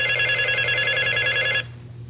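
A telephone bell rings steadily and loudly for about a second and a half, then cuts off abruptly, leaving quiet room tone.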